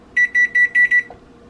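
A kitchen timer beeps five times in quick, evenly spaced bursts, loud and close, in a home kitchen while chocolate chip cookies bake in the oven.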